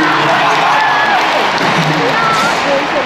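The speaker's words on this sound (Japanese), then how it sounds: "はい、ここで拍手。" A large stadium audience at a SHINee concert at Tokyo Dome gives sustained applause, a dense wash of clapping mixed with crowd noise and faint cheers that holds steady throughout.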